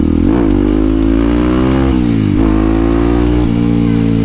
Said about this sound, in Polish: postawiłem na gumę, żeby po prostu się nie paść